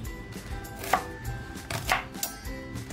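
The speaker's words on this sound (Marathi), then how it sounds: "कांदा जो घेतला होता तो कापून घेते" A knife chops onion on a board in a handful of sharp, irregular strikes, close and fairly quiet, with a couple of louder knocks and no voices.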